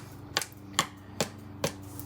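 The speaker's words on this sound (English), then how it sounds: "that's enough with the green onion chopping." A knife chops green onions on a cutting board in four evenly spaced, crisp taps about half a second apart, close and fairly quiet over a faint background hum.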